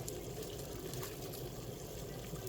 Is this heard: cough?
no